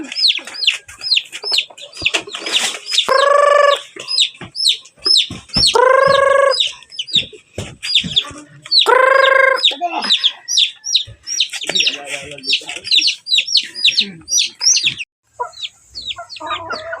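Chickens cluck and squawk close by, with several loud drawn-out calls among busy chirping birds, the clucking continuing throughout.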